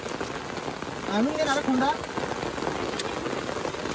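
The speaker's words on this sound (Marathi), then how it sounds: "पाऊस जोरदार आलेला आहे" Heavy rain pours down outdoors during a fish-catching outing, a constant dense hiss of drops striking surfaces, while a person speaks briefly partway through.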